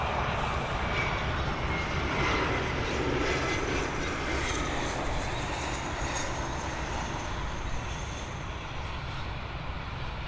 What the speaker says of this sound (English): we've got this Dassault Falcon 2000 LX coming in from Inverness